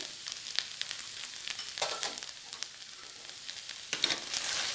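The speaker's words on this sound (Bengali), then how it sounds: "এবার আবার এটাকে ফ্রাই করে নিতে হবে।" Egg and lady's finger (okra) curry with spices frying in a pan: steady close sizzle and crackle with scattered sharp pops, no voices.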